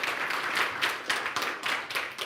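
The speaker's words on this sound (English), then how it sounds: "Give a big round of applause for Yifei" An audience in a lecture hall at a NixOS conference applauds to welcome a speaker, a brisk, sustained patter of many hands clapping at moderate loudness, with no speech over it.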